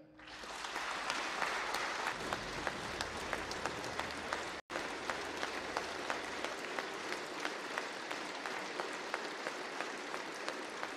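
Rapturous applause in parliament greeting President Zelensky before his speech, a dense, sustained wall of clapping from a large audience that holds steady throughout, broken only by a momentary cut.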